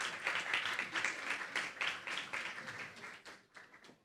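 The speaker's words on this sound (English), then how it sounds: "Let's give them a round of applause." An audience at the Virgin Islands Literary Festival in St. Croix claps to welcome speakers onto the stage, a dense burst of applause that stays steady for about three seconds and then thins into scattered, tapering claps.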